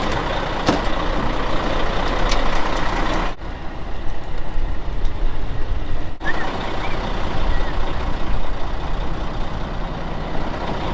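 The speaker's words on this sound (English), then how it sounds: "this truck takes a little while to air up" A truck's air suspension airs up in a loud, steady hiss and rumble, with a brief drop partway through, all close by.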